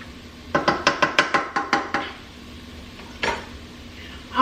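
A spoon stirs dirty rice ingredients with garlic in a pot, sending out a quick, rhythmic run of about nine clattering knocks against the metal, then a pause and one more scrape near the end.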